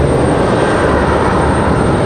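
An airplane at Raleigh Durham International Airport gives a loud, steady engine roar close by, a broad unbroken rumble with no voices.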